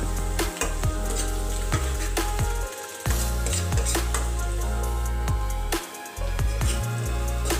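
Onions frying in a pan with curry leaves and mint added, a loud, constant sizzle broken by repeated clinks and scrapes of a spatula as the mixture is stirred.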